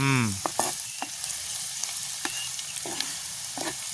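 Dried fish and potatoes sizzle steadily in a hot pan, with a few scraping stirs and clinks of a utensil against the pan.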